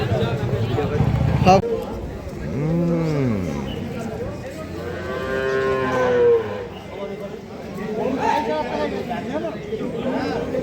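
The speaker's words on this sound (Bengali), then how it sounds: "দেখুন হেভি গরু আছে, ষাঁড় গরু, দুখানা বয়স" Cattle, including bulls, moo several times, long low calls rising and falling, while people talk and chatter nearby.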